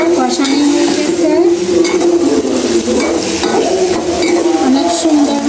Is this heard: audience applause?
no